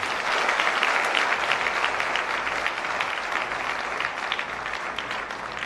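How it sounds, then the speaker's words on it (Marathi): A large audience applauds loudly and continuously for Ramesh Gholap at a gathering, a steady dense wash of clapping that holds throughout with no one speaking. "रमेश घोलप सरांसाठी इथे जोरदार टाळ्या झाल्या पाहिजे"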